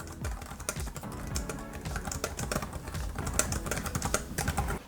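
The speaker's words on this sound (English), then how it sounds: "Let's do a typing test here to see how fast I can type on it." Rapid, steady typing on the compact full-size keyboard of a Chuwi Minibook X netbook laptop, dense clicking keystrokes heard close and alone for the whole stretch.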